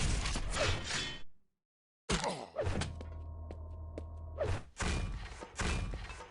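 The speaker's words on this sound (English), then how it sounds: "This plasma climbing's pretty noisy as well." Repeated plasma gun blasts used for climbing in a Quake-style arena shooter, loud buzzing bursts with a whirring hum between them and a short silent gap early on.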